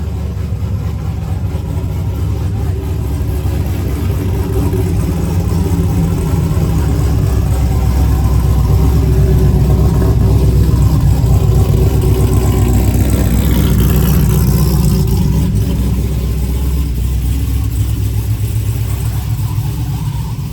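A Chevrolet C10 square-body truck with an LS3 V8 rumbles loud and close as it pulls onto a dyno, a steady deep low idle that swells briefly with throttle near the middle, with no voices.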